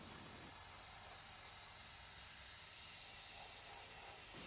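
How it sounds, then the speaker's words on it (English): A Border Model Black Flame 0.3 mm airbrush spraying thinned paint gives a steady, faint hiss that runs evenly and alone throughout. "The airbrush allows for precise lines, especially if you use properly thinned paint."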